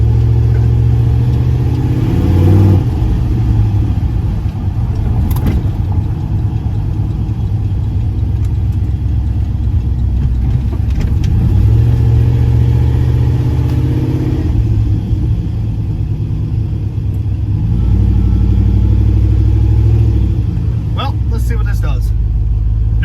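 Turbo LS-swapped Chrysler Caravan held on the trans brake, its engine rumbling and revving loudly and continuously throughout, with a few surges and dips in pitch up close.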